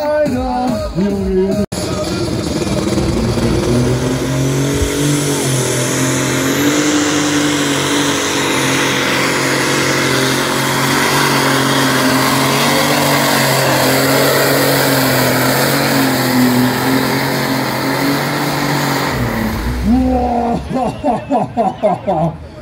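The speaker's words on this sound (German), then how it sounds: "Extrem hohe Drehzahlen haben wir gerade eben schon gehört beim Countdown" A tractor-pulling engine at a full-pull event in Sonsbeck screams at extreme rpm in one long, loud, sustained roar, then cuts out near the end, with an announcer talking over it.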